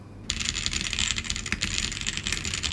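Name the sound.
typing on Vortexseris Mono keyboard before modification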